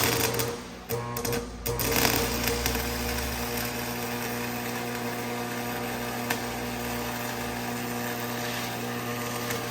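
Arc welding with a hard face rod on a farm makes a steady crackling buzz with an underlying electrical hum, fairly close, briefly interrupted near the start and then continuous.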